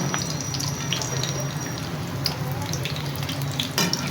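Potato kebabs shallow frying in oil in a pan over low heat give a steady, continuous sizzle and crackle with scattered pops, close and even throughout.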